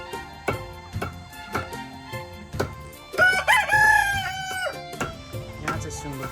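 Local chickens kept in a backyard coop cluck in short repeated bursts, then a rooster lets out one long, loud crow in the middle before the clucking resumes, all close by.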